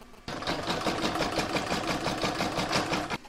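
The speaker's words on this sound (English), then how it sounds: "I'll now pop that into my machine and stitch round number 14" An embroidery sewing machine stitches a patchwork round with a steady, fast mechanical chatter and rhythmic pulsing that starts abruptly and stops after about three seconds, with no talking.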